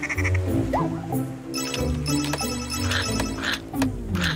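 Cartoonish duck quacks rise over a busy, music-laden background, several short nasal calls scattered through the clip, fairly loud.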